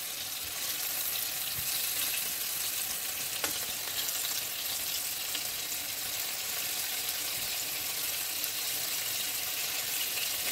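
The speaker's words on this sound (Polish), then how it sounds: "Ja mojego karpia już mogę śmiało przełożyć na drugą stronę." Carp fillets frying in oil in a pan for a Christmas Eve dinner, a steady loud hiss and sizzle with faint crackles and one brief scrape as the fish is turned, no voices.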